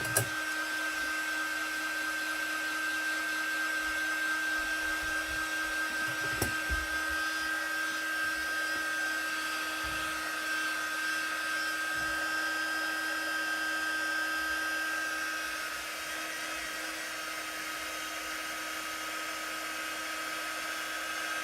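Hair dryer blowing steadily on chalk paste over a stencil, with a continuous close whine and airy rush that runs almost the whole time. It drops slightly in level near the end, and small handling knocks are heard under it.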